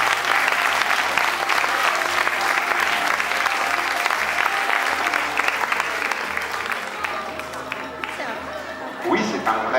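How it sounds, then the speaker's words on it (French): An audience at a live magic show applauding a volunteer: sustained, dense clapping that holds for nearly ten seconds and thins slightly near the end, with faint crowd murmur. "Applaudissements pour madame."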